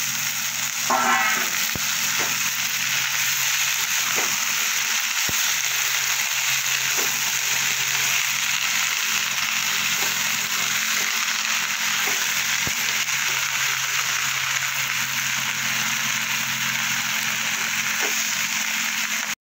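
Chopped radish greens frying with onion, garlic and chili in a pan, with a steady close sizzle throughout and occasional clicks and scrapes of stirring.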